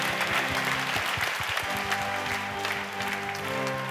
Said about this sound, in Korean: 우리에게 능력 주시는 주님께 감사와 영광의 박수를 올려드리겠습니다